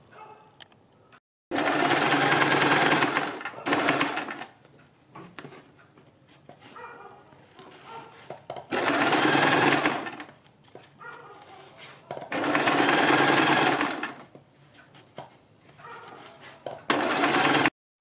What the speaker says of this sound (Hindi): इसको इस तरह से फोल्ड करेंगे और इसके ऊपर एक सिलाई लगा देंगे